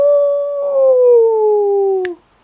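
A voice imitates a dog, a single drawn-out howling woof held for about two seconds, loud and close, ending abruptly.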